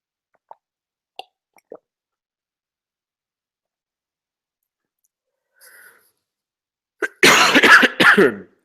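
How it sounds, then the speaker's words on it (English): A few faint clicks give way to a loud, close cough in two harsh bursts after a long stretch of near silence. "I've got a slight cough, so I apologize for coughing."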